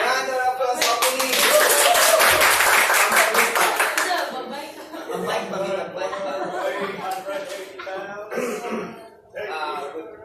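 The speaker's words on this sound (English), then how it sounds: "Round of applause, opening." A workshop group breaks into loud clapping that swells for a few seconds, then gives way to chatter, laughter and coughs as people talk over the fading claps.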